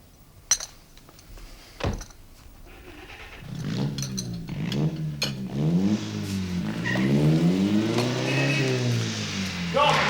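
A loud car engine roars and revs repeatedly, pitch rising and falling in surging waves as it pulls away and keeps accelerating. A few sharp clinks come first.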